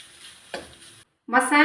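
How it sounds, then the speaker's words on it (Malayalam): Crushed masala with dried red chillies and curry leaves is sautéed in a pan for a horse gram dish, a short stir and sizzle, a brief pause, then a loud close frying hiss. "ചതച്ച് വെച്ച മസാല ഇട്ടു കൊടുക്കാം മസാല അല്പസമയം നമുക്കിങ്ങനെ ഒന്ന് വഴറ്റിയെടുക്കാം"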